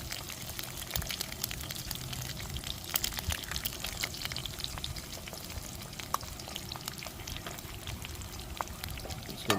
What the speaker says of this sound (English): Now just cook it in all that grease.